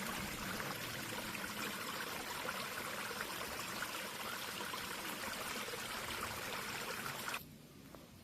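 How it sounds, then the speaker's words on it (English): Stream water flowing steadily beside a hiking trail, a constant rushing and trickling wash that drops suddenly to a quieter level near the end. "I could sit here for hours and just listen to this water."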